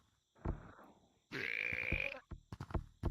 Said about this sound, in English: stop burping everywhere